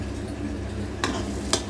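Tomato pickle stirred in a pan with oil, a steady low sizzle broken by two brief scraping strokes of the spoon, close by with no talk.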